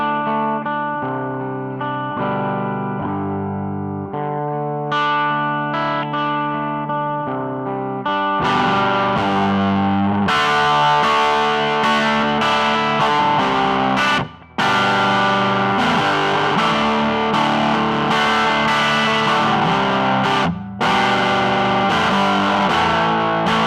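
Electric guitar played through a Kemper profiler loaded with profiles of a 5F1 Tweed Champ amp, with the onboard compressor engaged. The guitar plays loudly and steadily, picked notes giving way to fuller strummed chords, with two brief drops into near-silence.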